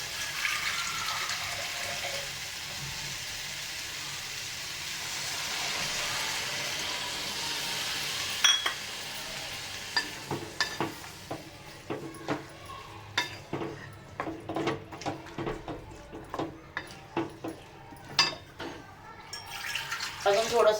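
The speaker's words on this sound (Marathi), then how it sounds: "आता याच्यामध्ये पाणी घालूया." Water is poured into a pot of Maharashtrian bhogichi bhaji, a mixed vegetable curry cooking on the stove, giving a sudden splash, then irregular sloshing and metallic clinks over a background hum.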